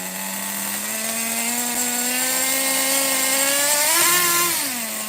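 Megatech Nitro Razor RC nitro engine revving steadily close by, a high buzzing drone that climbs in pitch near the end as the two-speed transmission shifts, then drops back.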